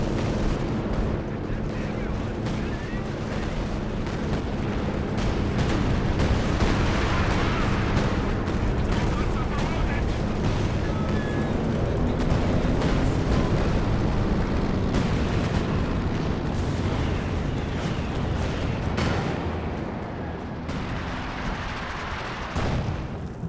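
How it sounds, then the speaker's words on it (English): Assault artillery barrage in a 4 vs 4 strategy video game, a continuous roar of overlapping explosions and distant gunfire rumbling under a commentator's voice throughout. "It's assault artillery."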